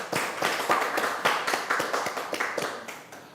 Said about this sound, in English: We will give big applause to Professor Rosli Omar